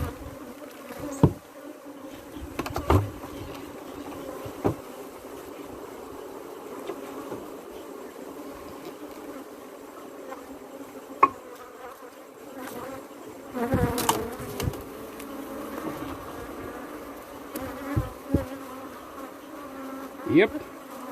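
Honeybees hum steadily around an open hive whose field bees have died, a low continuous buzz with individual bees passing close now and then, plus scattered handling clicks and a brief spoken word.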